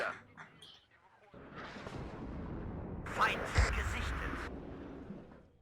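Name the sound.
artillery fire in the video game WARNO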